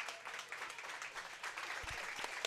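Spectators clap in the warm room at a curling match, the 2017 GNCC U18 championship. The applause is distant and fairly faint, a continuous scattered patter with a couple of low thumps near the end.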